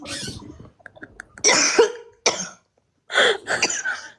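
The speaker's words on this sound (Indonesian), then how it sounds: "ih batuk loh" Several harsh coughs with throat clearing in quick bursts, loud and close, separated by short pauses, with no talking.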